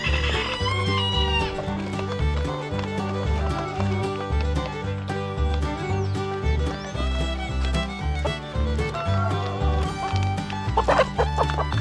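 Chickens cluck and a rooster crows around a budget backyard henhouse, the bird calls mixed into a steady, continuous backdrop of other sound throughout.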